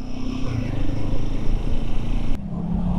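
A motorcycle engine, a Speed 400 or Himalayan on the Kasara ghat road, runs loud and close with a rough throbbing drone and wind, its pitch shifting slightly near the end as the revs change.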